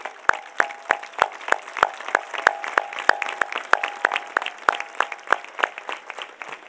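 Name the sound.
applause for music and dance school students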